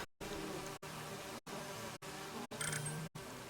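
Steady insect buzzing from a swarm of bees in the Disneyland Adventures Winnie the Pooh level on Xbox, loud and continuous and broken by several short gaps.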